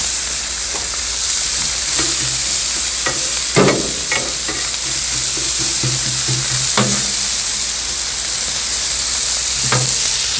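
Steaks sear on a Blackstone flat-top griddle with a loud, continuous sizzle close by, punctuated by scattered scrapes and clinks of a spatula, and no talking.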